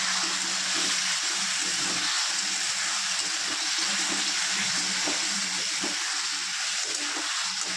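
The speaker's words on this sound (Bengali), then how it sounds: "এবার জল দিয়ে দেবো, মশলাটা ভাজা হয়ে গেছে।" Water is poured into fried spice masala for a fish curry, giving a continuous loud splashing rush over a hot sizzle that lasts throughout, close up and with no talking.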